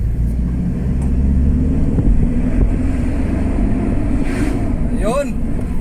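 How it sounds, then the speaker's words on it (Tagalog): A 2016 Mitsubishi Pajero with low power and no check-engine warning, its engine droning loudly and steadily, with a rising pitch sweep near the end as it revs, plus wind buffeting; a voice speaks over it. "So try natin ihataw yung makina"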